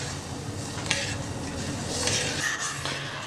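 Cinnamon powder and cloves boiling in a heavy-bottomed pan for a cough and cold remedy, stirred steadily, with a continuous bubbling sizzle and faint scrapes and clinks of the spoon against metal, close up and without talk.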